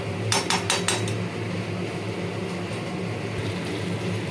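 Metal lid set onto a cooking pot of potol chingri, a few quick clattering clinks near the start, then only a steady low kitchen hum.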